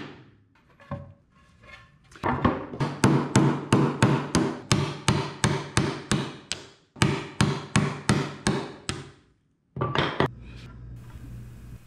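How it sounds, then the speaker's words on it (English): A chisel struck with a mallet, chopping a wooden tenon shoulder down to the baseline: a run of sharp, evenly spaced knocks, close and clear, with a brief pause midway before the blows resume, and no talk. "Chisel down to the baseline, going halfway from one side before flipping and going halfway from the other side."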